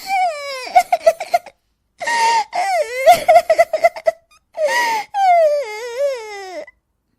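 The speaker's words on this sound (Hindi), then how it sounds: "तभी उसे रोने की आवाज आती है" Someone crying in a forest, used as a story sound effect: loud, close wailing sobs in several drawn-out bursts with wavering pitch and brief gaps between them.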